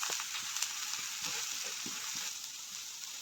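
Passion fruit leaves and onion frying in a pan for a thoran, a steady close sizzle with faint stirring clicks throughout, no talking.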